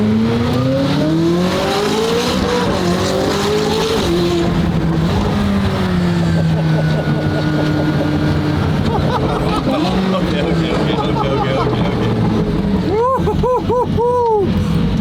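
A fast street car's engine revs and accelerates hard, roaring loudly with rising and falling pitch sweeps and quick rev blips near the end, under excited talk throughout.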